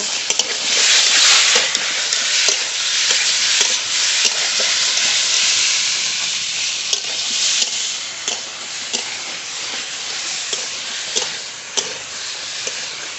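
Taro stems are sautéed with ground green chili and spices for a hilsa fish curry, giving a loud, steady hiss of frying. Scattered clicks and scrapes from stirring run through it, with no talking.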